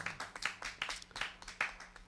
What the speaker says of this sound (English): We're clapping for ourselves since you guys aren't here.